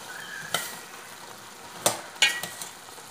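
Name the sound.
vegetables and carrot being stirred and mixed in a pan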